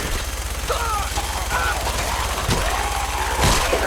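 Video game gunfire with scattered sharp shots and bursts over a busy, rumbling background, with a voice speaking at times over the action.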